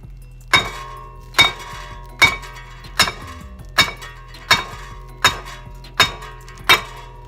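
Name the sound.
sledgehammer hammering on car brake rotor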